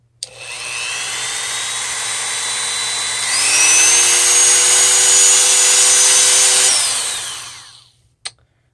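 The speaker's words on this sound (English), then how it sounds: "I started to drill on top of the vent" A power drill drilling into a metal vent whines steadily, its pitch jumping higher partway through as it speeds up, then winds down and stops, followed by a single sharp click.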